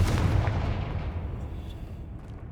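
The Confringo explosive spell cast in the Hogwarts Legacy video game bursts with a heavy booming blast at the start, then rumbles and fades over a couple of seconds.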